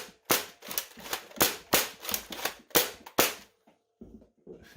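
An X-Shot Chaos Orbit toy blaster fires a rapid series of about eight sharp, close cracks at roughly half-second intervals, then a few softer mechanical clicks and rattles as the shooting stops, with no speech.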